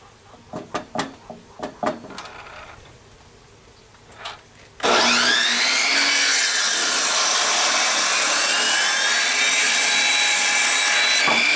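A table saw cuts half an inch off the end of a wooden board: a few light knocks and taps, then the blade runs loud and steady with a high whine through the rest of the clip.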